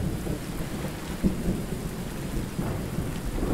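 Rain falling steadily with low rumbles of thunder in the game Under A New Sun, a dense even hiss over a deep background roll, with a few soft thuds and no speech.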